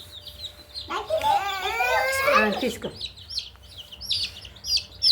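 Hen near colourful chicks, with a long drawn-out squawking cackle in the middle, then soft rapid chirps of chicks close by; a person speaks briefly.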